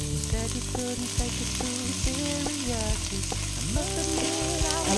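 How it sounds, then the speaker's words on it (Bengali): Pasta is stirred into a white sauce in a sizzling pan, a constant frying hiss carrying under someone talking and soft background music. "এবার ভেতরেই পাস্তাটা মিশিয়ে দেবো।"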